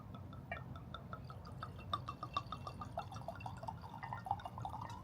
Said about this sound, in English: Give us a good pour in there.